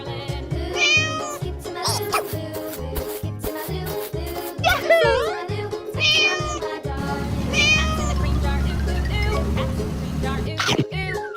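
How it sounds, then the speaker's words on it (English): A cat meows repeatedly, with several drawn-out, wavering mews spread over the span, set against a dense, busy background of rhythmic tapping and a steady low hum, with voices mixed in. "Cat."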